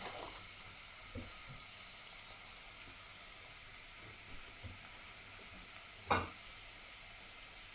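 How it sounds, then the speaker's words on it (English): Onions hiss and sizzle steadily as they fry in hot oil for a curry, with a few soft scrapes and one louder clatter near the end, no voices over it. "In go the onions."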